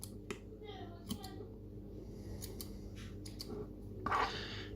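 Snips from scissors trimming wicking material during a Wotofo Profile vape coil build, a few sharp close cuts spread over a quiet background hum, with one louder rustling snip near the end.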